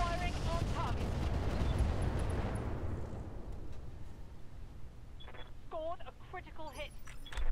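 A mech's incendiary weapons firing in the battle game Roguetech, a heavy roaring burst that slowly fades into rumble, followed by a series of short electronic beeps and chirps.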